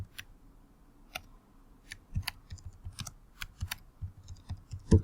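Keyboard keys being typed in short irregular bursts of clicks, close and fairly quiet, with no voice over them.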